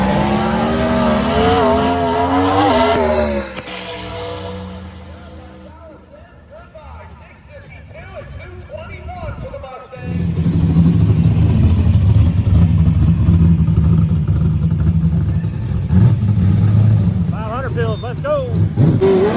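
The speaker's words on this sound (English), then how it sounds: "we got small little mod motor versus big block Chevy" Drag race at the BMP reunion pitting a small mod motor against a big block Chevy: loud engines roar and rev, fading into a lull before a sustained heavy drone returns, with people talking over it.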